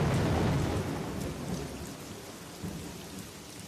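Steady, dense rainfall pours down with low rolling thunder rumbling through it, strongest at the start and easing slightly; no voices.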